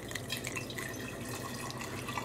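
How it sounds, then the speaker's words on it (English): Liquid pours steadily through an IKEA funnel into a container, a soft continuous trickle with light dripping, fairly faint and close. "now I'm going to pour this into my container"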